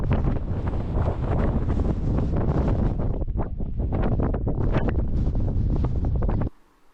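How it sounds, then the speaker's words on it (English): Strong wind buffeting a microphone by the roadside on the way to El Chalten in Patagonia, loud gusty roaring that swells and pulses continuously, then cuts off abruptly near the end. "just look how windy it was"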